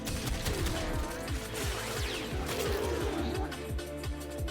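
Gunfire from shooting an enemy in a video game: a fast, steady string of repeated shots sounding throughout, dense and mid-loud, with busy game effects layered around it.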